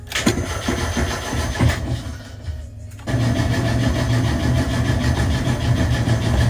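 An engine-swapped Miata's JDM engine cranks with choppy starter bursts, pauses briefly, then catches and settles into a steady, loud idle.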